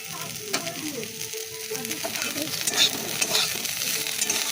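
Cauliflower pieces frying in oil in a home kitchen, a steady close sizzle with occasional stirring scrapes and small clinks rising toward the end, no talking.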